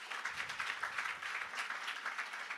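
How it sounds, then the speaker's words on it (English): Applause from the audience at a progressive policy leaders panel event in Berlin, a fairly soft but steady round of clapping with slight swells, heard alone without voices. "Once again, big round of applause."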